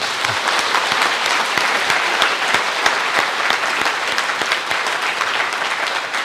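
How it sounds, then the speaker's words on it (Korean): A church congregation claps together during a Christmas Day service, a loud sustained burst of many hands with sharp individual claps standing out, lasting several seconds without talk. "오늘 온 힘을 다해서 주님께 환영하는 박수를 드리도록 하겠습니다"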